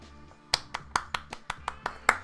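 One person claps by hand in a room while watching a Chelsea versus Juventus football match, about eight sharp, close claps in an uneven rhythm over a low background murmur.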